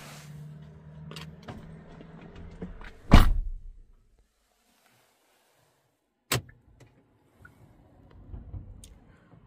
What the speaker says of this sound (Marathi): लॉक करून जातोय गाडी